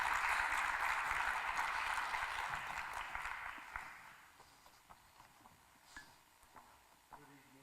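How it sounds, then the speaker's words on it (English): An audience applauds a violinist being introduced at a school conference, a dense burst of clapping that thins out after about three seconds into scattered claps and small room noises. "Give him a round of applause."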